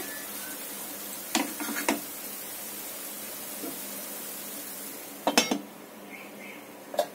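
A lid is set back onto a cooking pot on the stove as a sweet dish is prepared, giving faint metallic clinks in two short clusters, with a final light tap near the end over a quiet hiss.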